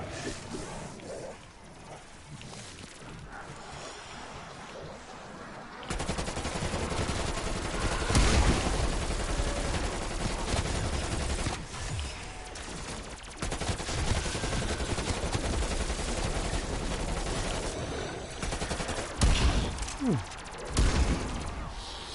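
Gunfire from shotguns, assault rifles and SMGs rattles through a Call of Duty Cold War zombies match, dense bursts and rapid shots layered over a loud, continuous game soundscape with heavy booms scattered throughout.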